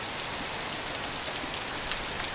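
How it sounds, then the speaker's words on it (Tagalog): Steady rain pouring onto a surface at the onset of a typhoon, a dense even hiss of drops throughout, close by and with no talking. "bakit ngayon umuulan na?"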